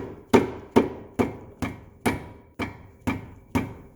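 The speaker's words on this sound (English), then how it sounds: "put the bolt in through the front and a tap, tap, tap, tap, tap, tap" Eight sharp hammer taps on a metal bolt being driven into the lower control arm of a 2013 Fiat 500 Turbo, evenly spaced about half a second apart, each with a short ringing decay, close and fairly loud with no talking.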